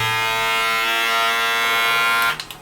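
A Metz The Sword MZDF032 electric shaver runs close up with a loud, steady buzzing hum, then cuts off near the end, leaving a few faint clicks.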